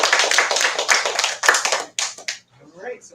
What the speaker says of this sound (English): let's have another giant round of applause